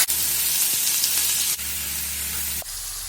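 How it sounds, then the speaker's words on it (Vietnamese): Ginger, chili and lemongrass fry in hot oil with a steady, dense sizzle, close and continuous, broken by brief stirring pauses. "Bây giờ thì Quỳnh sẽ cho là cái phần là gừng, ớt và sả vào Quỳnh chiên tiếp"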